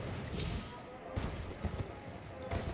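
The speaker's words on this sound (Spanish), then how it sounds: "Está jodido manejar el caballo acá." A horse gallops in the video game Elden Ring, its hoofbeats landing as irregular thudding clusters amid dense game noise, moderately close.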